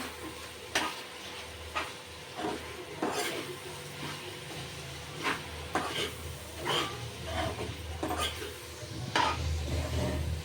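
Two spoons of coriander powder are stirred into a chicken masala curry frying in a pan, with repeated scraping strokes of the spoon against the metal over a steady sizzle, close and clear.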